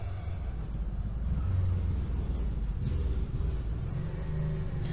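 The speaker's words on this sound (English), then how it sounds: "it's amazing how much ambient noise and traffic there is out here, even in the country" Distant traffic drifts through a quiet countryside setting in Northern California, a steady low rumble of passing vehicles with a faint swell partway through, no voices present.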